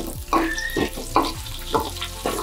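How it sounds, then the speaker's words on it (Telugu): Dried red chillies frying in oil with cumin, mustard seeds, chana dal and curry leaves, a steady close sizzle broken by a few spoon stirs and scrapes against the pan. "ఫ్రై చేసుకుందాం."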